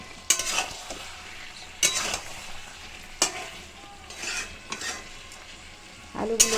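Mutton and potatoes stir-fried in oil for kosha, a continuous sizzle broken by several sharp, periodic scrapes of a spatula against the pot, close and clear.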